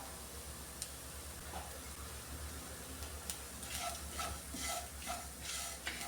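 Grated coconut and sugar heated and stirred in a pan for a bread snack, giving a soft steady sizzle with scraping stir strokes and light ticks, close and moderately quiet, no talking.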